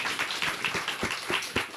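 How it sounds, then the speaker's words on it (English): Audience applause closing a panel discussion on sustainable seafood and eating with a conscience: a moderate, fairly distant patter of many hands clapping at an uneven rhythm, with no voices over it. "Would you join me in giving a big round of applause to Matt and Adrian?"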